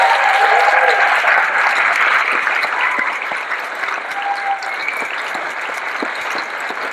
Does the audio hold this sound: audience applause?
yes